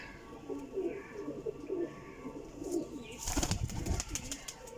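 Low pigeon coos murmur repeatedly over a busy outdoor background, with a louder burst of rustling and flapping near the end.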